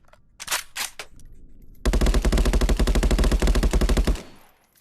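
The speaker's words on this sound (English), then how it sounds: "It's a fully automatic rifle, and you can hold the trigger down, and it will shoot all the rounds in this magazine." A fully automatic rifle in a VR game empties a full magazine in one rapid, loud, continuous burst of about two seconds, preceded by a few brief handling clicks and followed by silence.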